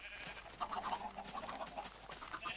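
Several Minecraft chickens cluck and bleat-like calls warble over a steady hum, repeated clucks rising and falling without any talking.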